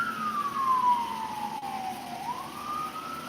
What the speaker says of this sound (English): y'all hear the sirens in the back